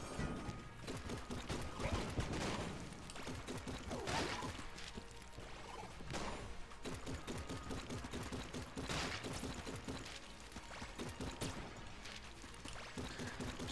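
Gunfire rattles in Enter the Gungeon as fast, dense shots stream almost continuously. Thumps and impacts are mixed in, and the whole sound is quiet.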